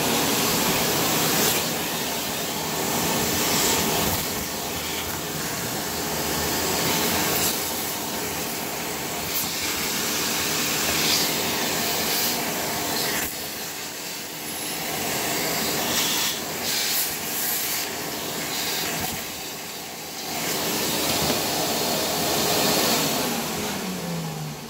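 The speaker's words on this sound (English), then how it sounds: "So I turn on the vacuum cleaner." A Dyson cordless vacuum cleaner runs continuously and loudly with a steady, broad whooshing hiss and slight fluctuations in airflow, close by and without any talking.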